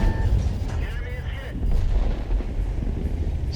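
Tank cannon fire in World of Tanks, heavy booming blasts and rumbling battle noise at close range, with a voice talking over the game sound.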